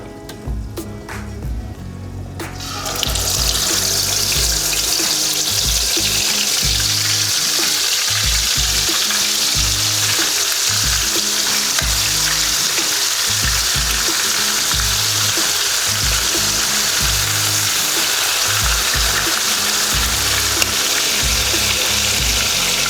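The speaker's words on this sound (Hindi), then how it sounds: "तो अब हम इसमें डालते हैं जी चिकन के पीसेस फ्राई के लिए।" Marinated chicken pieces for steam fried chicken hit hot oil after a short quiet start, then fry with a loud, steady, close sizzle and crackle that carries on without a break.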